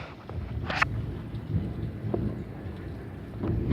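Thunder rumbles through a huge rainstorm, with steady rain noise underneath and a sharp crack early on followed by lower rolling booms, all fairly close with some wind buffeting the microphone.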